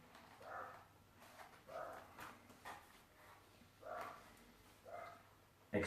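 A dog barks several times in irregular bursts, fairly quiet and somewhat distant, against a low steady background hum, with a sharper thump at the very end.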